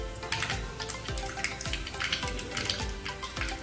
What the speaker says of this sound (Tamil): கடுகு நல்லா பொரிஞ்சிடும்.